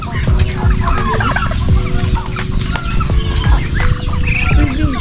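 A crowded flock of turkeys and chickens, with some geese, being fed corn gobbles and clucks nonstop, loud and close, with overlapping calls throughout.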